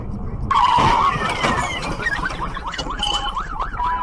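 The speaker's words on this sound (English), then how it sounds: "Oh my God! Braking." A car brakes hard and skids in a multi-car highway crash, a loud tire squeal starting abruptly and sliding for about a second, followed by a siren wailing up and down in the background with traffic noise.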